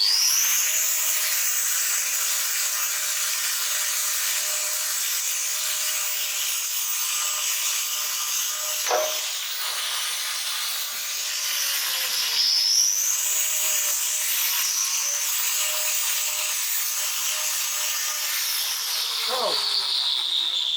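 An angle grinder trimming a cow's hoof gives a steady high-pitched whine that runs throughout, with a few brief dips where the wheel bites. A person speaks briefly over the grinding.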